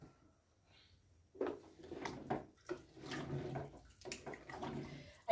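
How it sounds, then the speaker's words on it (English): Pre-measured water is poured into a chicken and rice stew mixture in a pot, giving a soft, uneven splashing and gurgling that starts after a quiet second and goes on in bursts. "we are going to add the pre-measured water right into the mixture"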